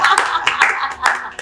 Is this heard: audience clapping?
yes